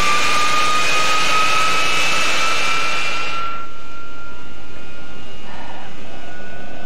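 Jet engine whine in the DCS World flight simulator, a loud steady roar with high tonal lines that cuts off sharply partway through, leaving a quieter low hum.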